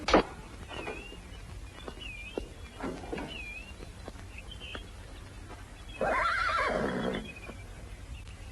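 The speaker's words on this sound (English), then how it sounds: "Looks like a fine horse." A horse neighs loudly at the start of an old 1956 Western scene, followed by fainter snorts and whinnies and a longer, louder whinny near the end over steady outdoor background noise.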